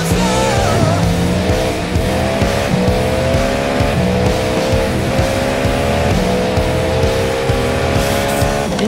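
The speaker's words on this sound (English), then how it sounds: "It's also of no debate that the Cadillac V-Series-R is one of the best-sounding cars in the game, so just sit back and hear for yourself." The Cadillac V-Series-R race car in the iRacing simulator roars continuously and loudly, its engine note climbing and dropping through gear changes with a steady, dense exhaust drone and no talking.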